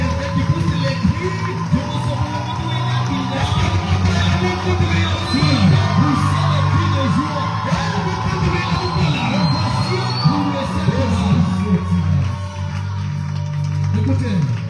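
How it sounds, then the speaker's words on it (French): A church congregation cheers and shouts in praise of the Holy Spirit, with many voices overlapping in sustained, loud yells and calls layered over a spoken voice. "Est-ce que quelqu'un peut acclamer pour le Saint-Esprit?"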